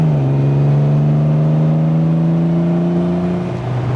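A 1968 MGC Roadster accelerating along a motorway slip road, its engine droning steadily with a rising whine as it gathers speed, close and continuous.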